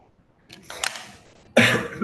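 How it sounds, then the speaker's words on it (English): A man coughs close to the microphone in a quiet room: a rough throaty cough, then a sharper, louder single cough after a short pause. "I'm a bit fighting with the cough."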